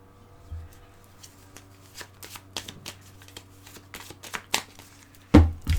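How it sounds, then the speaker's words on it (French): A deck of tarot cards is shuffled by hand in a quiet room, with a series of soft crisp riffles and flicks building unevenly, then a louder slap as the cards are gathered at the end; no talking. "Je remélange un petit coup mes cartes"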